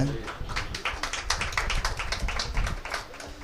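A church congregation at a Tamil Christian sermon claps continuously, with dense, fairly even clapping throughout at moderate loudness and a low background murmur.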